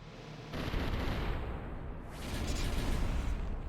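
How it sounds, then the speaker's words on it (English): Cannon fire in the strategy game Symphony of War: The Nephilim Saga, a loud rumbling barrage that starts abruptly and keeps booming in overlapping blasts, with a second swell of explosions near the end and no talk. "Let's see if anyone can survive cannons."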